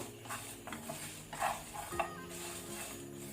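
Cumin seeds and dry red chillies dry-roasting in a pan are stirred with a spatula, giving soft scraping and rattling scrapes and a few light clinks against the metal, fairly quiet and close.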